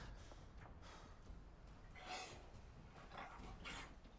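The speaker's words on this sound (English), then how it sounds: "This is my dog. He was like coughing." The dog companion in Fallout 4 coughs in a few faint, breathy bursts, low in level against a quiet game backdrop.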